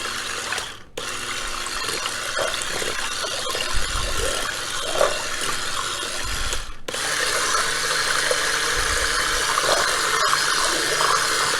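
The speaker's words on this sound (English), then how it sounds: "I'm going to use this beater, the electric beater, because it'll go faster and it'll mix better." An electric hand beater whirs steadily and loudly as it mixes batter for breakfast sandwiches, with brief dropouts near the start and in the middle and a faint rattling mechanical texture.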